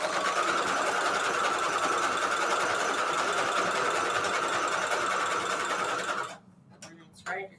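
A sewing machine runs a fast, steady zigzag stitch through vellum pockets, a loud continuous mechanical whir for about six seconds before stopping, followed by brief rustling handling sounds and a voice under the whir.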